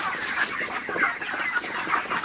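Broiler chickens in a poultry shed during hot, humid weather cluck and chatter continuously as a busy, overlapping flock at close range.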